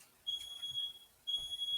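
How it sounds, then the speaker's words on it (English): A smoke detector in a home gives two high, piercing beeps, each held for about a second with a short pause between, fairly clear over quiet room noise. "That's my smoke detector."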